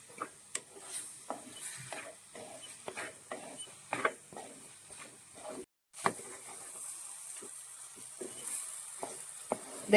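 A spatula scrapes and stirs a thick masala paste for fish curry in a pan in repeated strokes, with a soft, constant sizzle underneath.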